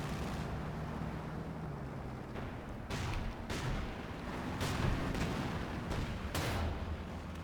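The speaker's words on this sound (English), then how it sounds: "So is this B4 gonna fire?" B4 howitzer artillery in a Company of Heroes 2 battle: several distant booms and sharp bursts at irregular intervals over a low rumbling battlefield bed, fairly faint overall with no talk.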